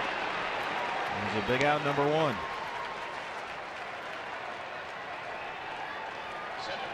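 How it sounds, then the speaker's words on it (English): Dodger Stadium crowd applauding a batter after his two-home-run game, a steady broad wash of clapping and cheering heard over play-by-play talk. "Dodger fans applauding his 2-home run game"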